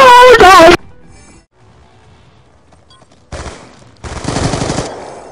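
Loud bursts of automatic gunfire from Black Ops 2 cut in after a short shouted voice and a quiet gap, with a sharp burst followed by a longer sustained rattle near the end.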